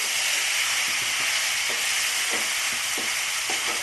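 Kochur loti (taro stolons) and shrimp sizzle steadily in a frying pan over medium gas, a dense, loud hiss broken by soft, regular scrapes of stirring.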